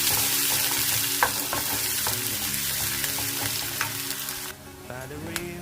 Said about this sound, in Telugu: ఇప్పుడు దాంట్లోకి మనం ఒక ఉల్లిపాయ, ఒక పచ్చిమిర్చిని ఇలా చిన్న ముక్కలుగా కట్ చేసుకున్నాము, అవి కూడా వేసుకున్నామండి.